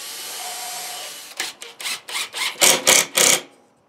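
A power drill pre-drills into cedar boards for a coat rack: a steady motor hum first, then a run of about eight short, increasingly loud bursts as the bit bites into the wood, ending abruptly.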